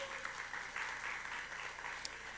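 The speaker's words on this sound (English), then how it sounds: "We applaud you." Steady, soft applause from an audience at a Women's History Month presentation, a far-off wash of clapping with no individual claps standing out.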